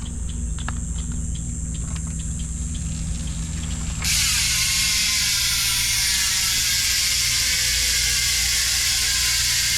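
Steady mechanical whirring, then a shift to a dense, rapid ticking buzz of a freewheel spinning, continuous and close.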